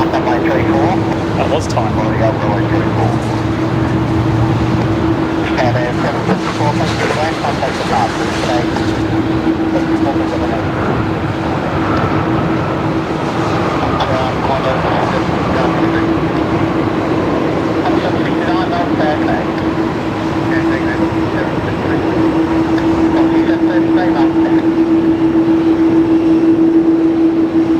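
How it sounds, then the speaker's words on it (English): A Boeing 747 touching down at Melbourne Airport, heard as a steady, broad, loud jet roar with a sustained engine drone that swells toward the end; a voice speaks briefly over the noise. "I'm just going to pan around just in time for the touchdown here of the 74"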